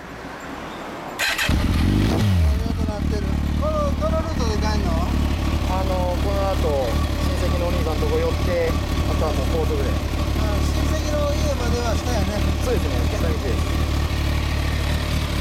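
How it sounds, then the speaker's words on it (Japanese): A 2006 Kawasaki Ninja ZZR1400 motorcycle with a Wyburn full exhaust cranks and fires up, then idles and revs repeatedly in loud, close bursts, with a voice briefly audible at the start. "エンジン音聞かせてもらえるかな"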